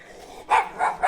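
Dogs bark near a house gate during preparations for a village Ganga puja gathering, giving three sharp, loud barks in quick succession after a quiet moment.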